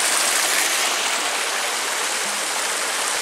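A flowing stream near a cave trekking path at Mandu, feeding a waterfall further on, rushes in a close, loud, unbroken wash of water with no voices over it.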